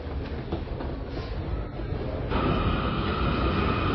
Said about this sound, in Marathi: सो आपली ट्रेन आलेली आहे